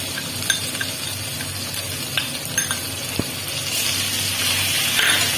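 Turmeric, chili powder and cumin sizzle in hot oil with fried tomatoes in a pan, giving a steady frying hiss. Occasional clinks and scrapes from a stirring utensil against the cookware sound close by.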